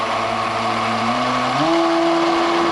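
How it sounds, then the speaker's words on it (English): A blender whirs steadily while emulsifying garlic and egg yolks into a mayonnaise-style herb sauce. Its loud, continuous motor whine climbs in pitch partway through, with no voices. "It's always a little scary doing this with a brand new blender or a stranger's blender"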